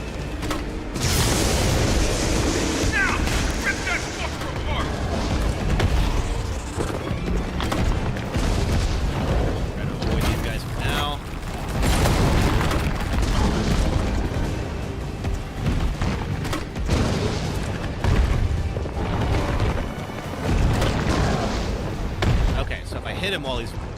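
Mine round grenade explosions in Resident Evil 3 boss fight, repeated heavy booms and blasts amid dense game combat noise and music, with a player talking excitedly over much of it.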